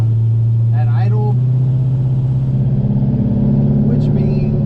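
A truck engine idles low and steady on very little vacuum, a constant near rumble with a faint tonal hum, heard under a man's speech.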